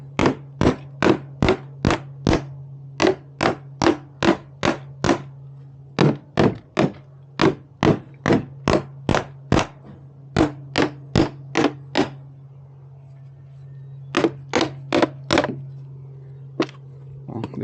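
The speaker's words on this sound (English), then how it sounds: "take a rubber mallet, kind of bang on it" A rubber mallet strikes a home water softener's brine tank to break up a hardened salt bridge, giving rapid runs of hollow thunks in steady bursts of four to six blows, loud and close over a constant low hum.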